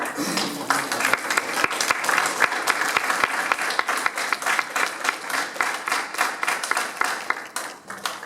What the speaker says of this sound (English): give a nice standing round of applause